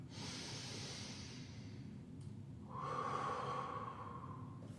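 A slow, deep inhale and exhale during an easy full-body stretching routine, up close and quiet: a hissing intake of breath, a short pause, then a longer, louder, breathy exhale.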